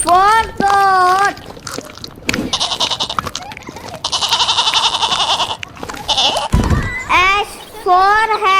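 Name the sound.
goat bleating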